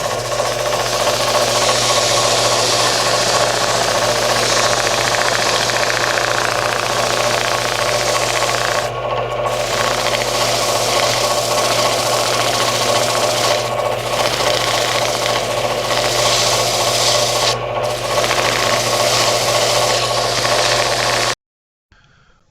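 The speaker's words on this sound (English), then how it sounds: "now you just go through the grits and get finer and finer grits and clean this all up" A turned square plate of chestnut root burl being power-sanded, giving a loud, steady whirring rasp that runs almost unbroken, with a few brief pauses, before stopping abruptly at the end.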